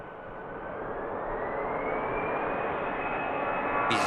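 An EasyJet jet airliner at Manchester Airport spooling up its engines: a loud, steady roar that swells slowly, with a high whine rising in pitch across the clip and a brief hiss near the end.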